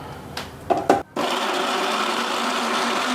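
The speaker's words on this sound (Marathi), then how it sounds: "हे आता आपण मिक्सरमध्ये फिरून घेऊया" Palm fruit (ice apple) juice with coconut water whirring in a mixer grinder, a couple of short rattling bursts and a brief pause before a loud steady blending drone up close.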